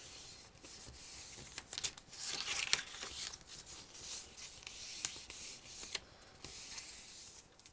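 Scored paper sides of a handmade mini album being folded up, heard close as continuous soft rubbing and crinkling with a few sharper creases and taps, with no talking.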